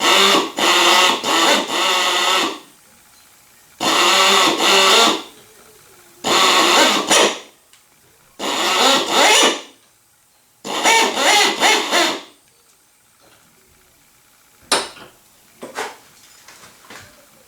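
A power drill whines in five short, loud bursts separated by pauses, grinding through a metal rivet head, followed by a couple of faint clicks.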